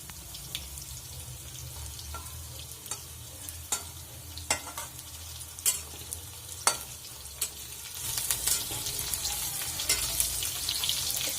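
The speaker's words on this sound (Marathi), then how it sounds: "दोडका तेलात असा तळल्याने त्याची चवय चव काहीतरी वेगळीच लागते" Ridge gourd frying in oil in a pan, a soft continuous sizzle with sharp stirring taps and scrapes that grows brighter and louder toward the end.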